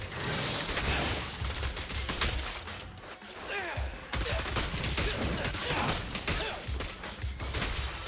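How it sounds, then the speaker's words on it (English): Billy's firearms blaze in Zenless Zone Zero, a dense, continuous volley of rapid shots with heavy recoil, loud and close, broken by a brief lull before the barrage resumes. "Billy, stop shooting things."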